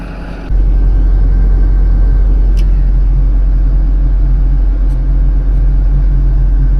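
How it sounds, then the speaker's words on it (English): Forestry logging machines, including a harvester, idle while warming up in cold winter weather, starting with a sudden loud low rumble that holds steady and continuous throughout, with a couple of faint clicks and no talk. "Both machines running now. Harvester is partially warmed up."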